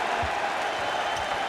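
Arena crowd at an ACC Championship college basketball game, Duke against NC State, letting out a sustained mock cheer after a foul call, a dense broad roar from thousands of fans filling the space at steady loudness.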